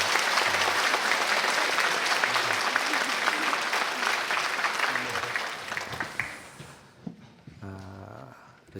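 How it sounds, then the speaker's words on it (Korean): Church congregation applauding loudly at a dawn youth service, dense sustained clapping that fades out toward the end, with a few quieter sounds after it dies down. "크게 박수 한번 해주시기 바랍니다"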